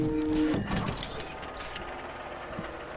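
A 3D printer runs in the video game Life is Strange: Reunion, giving a steady mechanical whir with a whining tone at the start that fades into a softer, even hum.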